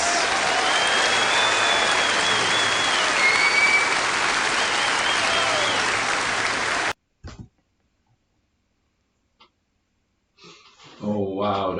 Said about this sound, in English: Give them an round of applause,